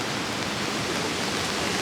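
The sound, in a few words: small stream flowing into a river in Kyoto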